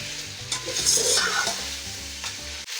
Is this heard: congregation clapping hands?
no